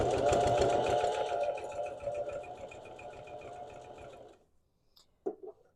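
Sewing machine stitching a fabric coaster, running with a rapid steady mechanical whir close by for about four seconds, then stopping. A couple of small clicks follow in near silence.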